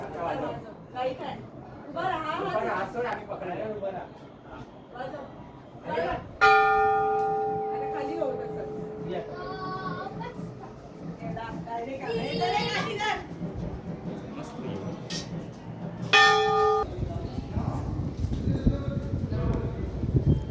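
A bell at Dhari Devi temple in Uttarakhand rings out twice, each strike sustained and resonant, amid a busy background of people talking and moving about.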